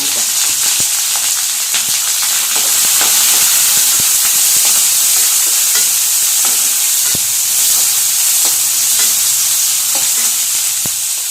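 Onions frying in a pan with ginger, a steady dense sizzle and hiss running throughout with occasional stirring clicks, close and loud, no voices.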